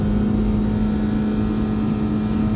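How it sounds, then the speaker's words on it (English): The four-cylinder engine of a 2018-2019 Nissan Sentra S holds a loud, steady, strained drone with a strong constant hum and no rise or fall in pitch, heard alone without speech. "it just sounds like the engine doesn't want to be pushed."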